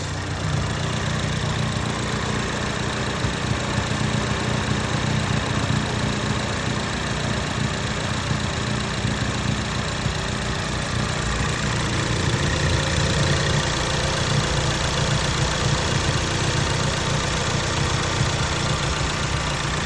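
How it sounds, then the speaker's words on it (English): A 2016 Ford Focus ST engine idles steadily with a fast, even ticking pulse from its fuel injectors running through it, close and constant for the whole stretch. "that's what you hear is the injectors pulsing."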